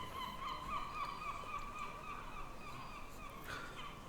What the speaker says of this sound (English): now I hear the seagulls properly